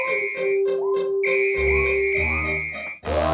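A bright sampled keyboard whistle tone holds steady over the busy musical backing of a song, with short whistle blips and swoops riding on top of the beat.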